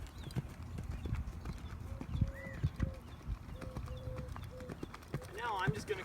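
A horse canters with soft, rhythmic hoofbeats on dirt, heard at moderate distance under a woman's encouraging speech, with faint bird calls around.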